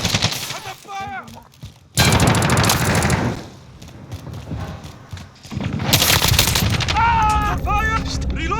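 Rapid automatic gunfire rattles in loud, dense bursts during a team deathmatch firefight at an airbase in a military shooter game, broken by short pauses and overlapping shouted voices.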